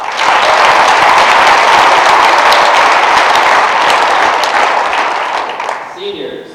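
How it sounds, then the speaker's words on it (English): An audience at a 2021 athletic awards ceremony gives a loud, sustained round of applause that gradually tapers off, with a brief voice or sound near the end. "Please give them a round of applause."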